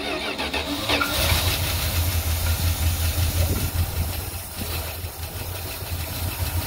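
A 1978 Plymouth Trail Duster engine cranks and catches about a second in, then settles into a steady, loud, slightly rough idle close by with no talking.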